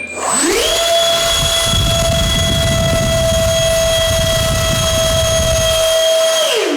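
An SR-71 Blackbird model with twin 64mm electric ducted fans runs a thrust test after a crash, spooling up to a loud, steady high-pitched whine, holding there for several seconds, then winding down.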